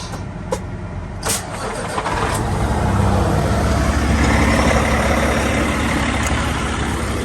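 A large truck engine cranks and turns over, then settles into a loud, steady rumbling idle that continues to the end.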